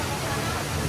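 A waterfall inside the Gardens by the Bay cloud forest gives a dense, steady rush of falling water, loud and continuous for a brief moment.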